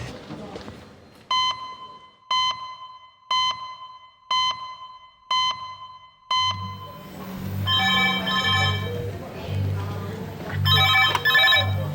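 A red phone in a busy hospital A&E department rings in six evenly spaced electronic trills, then the ward's clatter and an alarm-like tone take over.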